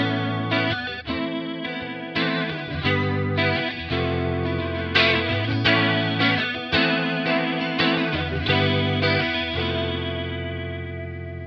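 An electric guitar through a BOSS CE-1 chorus effect on a Kemper Profiler plays shimmering, warbling chords and single notes, loud and close with a slightly gritty edge, no talking.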